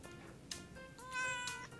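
Small kittens in the Hansel & Gretel food fantasy game mewing in a cartoon sound effect, with several high, bright meows overlapping in quick succession over a short burst, with no talk.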